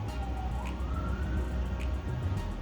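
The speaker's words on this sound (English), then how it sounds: "you can hear another ambulance going by." An ambulance siren passes at a distance, its wail slowly sweeping up and down over a low background rumble of traffic, faint and steady with no one speaking.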